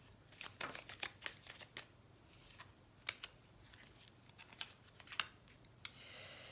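Tarot cards are shuffled by hand close to the microphone in a quiet room, giving a run of crisp papery riffles and snaps at uneven intervals, followed by a soft hiss at the end.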